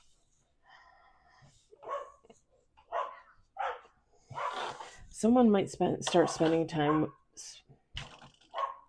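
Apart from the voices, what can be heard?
dog barking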